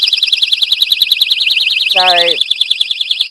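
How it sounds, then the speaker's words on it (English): A personal panic alarm shrieks continuously with a rapidly warbling, piercing high-pitched siren tone, very loud and close, while a person speaks briefly over it. "I always carry my panic alarm with me"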